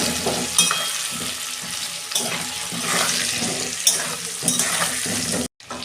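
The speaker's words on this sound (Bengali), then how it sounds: "আলু ভাজা হয়ে গেছে" Chandramukhi potatoes fry in oil seasoned with turmeric and salt, a steady broadband sizzle broken by stirring clatters and scrapes for several seconds, then cutting off abruptly near the end.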